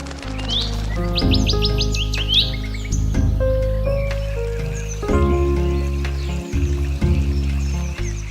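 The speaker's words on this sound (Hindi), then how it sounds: "पक्षियों की चहचहाहट" Local and migratory birds chirp and call in the Nauradehi wildlife sanctuary, Madhya Pradesh, with bright repeated tweets and trills over a steady low droning background, fairly close and continuous, no talking.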